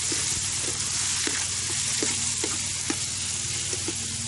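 Oil and ingredients for a green curry fry in a pan with a dense, continuous sizzle, marked by soft regular taps of stirring, close and without talk.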